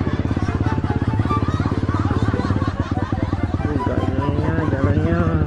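A Kawasaki KLX clutch motorcycle being ridden, its engine droning steadily and loudly throughout, with wind noise and a voice talking over it on a dark road.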